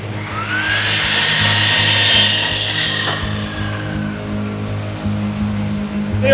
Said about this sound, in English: I'll finish getting this sanded up, and then we'll put a finer grit on here.